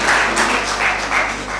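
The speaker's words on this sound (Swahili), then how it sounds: "Makofi." Members of a Wanaanga Sacco Ltd meeting applaud together, a steady, fairly loud wash of clapping with rhythmic swells that fills the whole moment.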